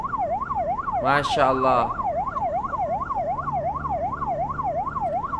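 An ambulance siren in Malaysian traffic whoops in a rapid, continuous up-and-down wail, clear and fairly close, as a voice speaks briefly over it early on.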